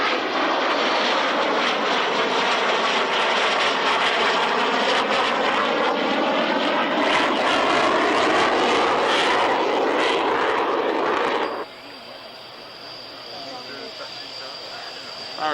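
A jet aircraft coming in to land at the 1994 Woodford airshow with a braking parachute: a loud, steady, broadband engine roar close by for about eleven seconds, then an abrupt drop to a quieter, lingering whine.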